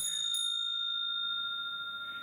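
A hand-held bell, struck to make it vibrate, rings out with a sharp strike followed by a sustained, steady tone that hangs in the air alone, close and clear.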